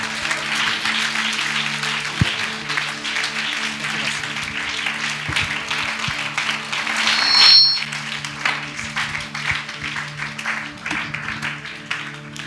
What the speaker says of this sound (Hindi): इसमें जोरदार तालियों के साथ प्रभु के आदरणीय दास का वेलकम करें।